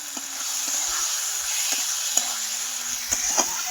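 Potatoes tossed with a tomato and spice masala and salt fry in a pan, giving a steady close sizzle broken by several sharp spatula scrapes and taps.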